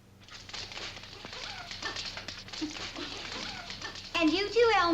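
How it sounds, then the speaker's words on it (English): Several puppies yip, bark and whimper close by, with rising squeals growing louder toward the end; a voice talks over them throughout, on an old, noisy 1943 film soundtrack. "And these puppies are the cutest things."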